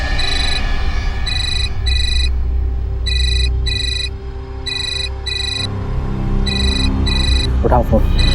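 A telephone rings in repeated double bursts, bright and electronic, over a low room hum with faint background voices.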